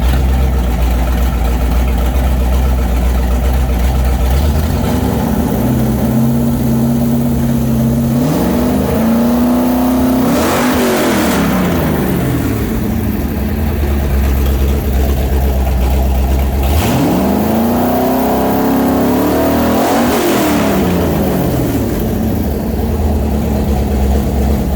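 A 347 Ford stroker V8 with a roller cam and AFR heads, rated at 425 hp, idles loudly with a lumpy, steady note. It is revved hard twice, rising and falling around the middle and near the end.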